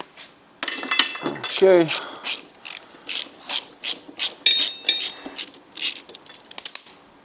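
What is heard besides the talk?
removing a 5mm Allen bolt from Honda CB 750 brake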